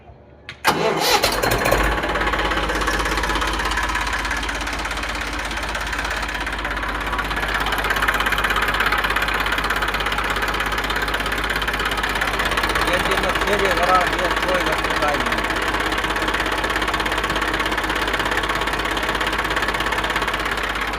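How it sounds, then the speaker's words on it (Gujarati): A tractor diesel engine cranks and starts, then settles into a loud, steady knocking idle that runs on without break, with occasional voices faintly beneath. "ડાયરેક્ટ ખેડૂતનું ટ્રેક્ટર છે."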